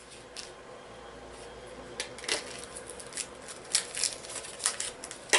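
Hard candies being unwrapped for homemade cough syrup: faint crinkling wrapper sounds in scattered crisp bursts, growing busier and louder toward the end, with no speech.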